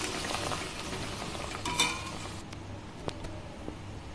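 Milk is stirred into shahi paneer curry in a pan, with soft sizzling and wet scraping, then a few light clinks of a spoon against the pan as the mixing quiets.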